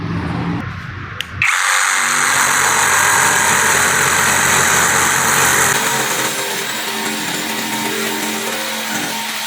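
A cordless brushless jigsaw (Modern M22) runs steadily and loud after a short start, a continuous whining buzz of the blade cutting a curve through material, with no talking.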